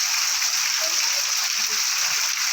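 Steady, dense rain pours down and drips through a broken roof, a constant loud hiss with no pauses.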